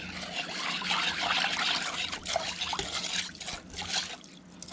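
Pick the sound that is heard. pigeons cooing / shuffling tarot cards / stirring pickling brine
stirring pickling brine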